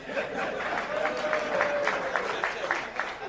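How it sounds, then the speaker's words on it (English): Steady applause from an audience, a dense wash of clapping that carries on throughout at an even level. "They'll start clapping."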